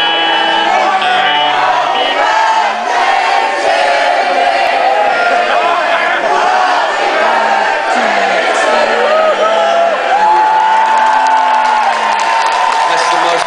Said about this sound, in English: That's the most beautiful singing he's heard in a long time.